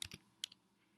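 Typing on a computer keyboard while entering an address into an HTML registration form: a few crisp, close key clicks in quick irregular bursts over a quiet background.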